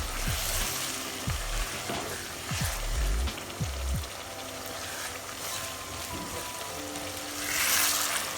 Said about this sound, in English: I'll add fresh tomatoes to it and keep stirring.